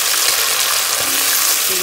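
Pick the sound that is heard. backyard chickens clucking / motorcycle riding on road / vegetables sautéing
vegetables sautéing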